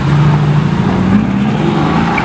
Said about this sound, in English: AMG GTR.